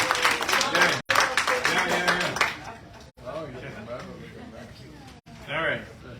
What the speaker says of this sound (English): Give JP a big round of applause.